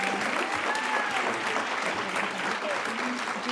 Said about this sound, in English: please join me in a huge round of applause